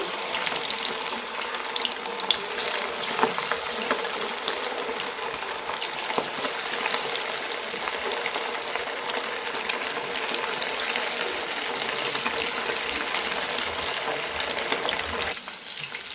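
Raw nethallu anchovy fish frying in hot oil, placed in one at a time, a steady loud bright sizzle and crackle running continuously throughout.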